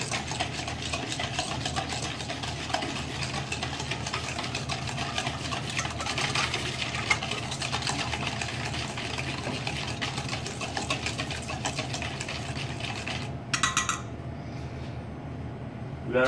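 Milk and a pinch of salt being stirred together for cream puff dough, a steady whisking and scraping that runs continuously, close and moderately loud, with a brief sharper clatter near the end.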